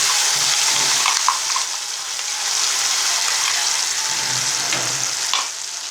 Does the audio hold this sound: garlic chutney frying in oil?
yes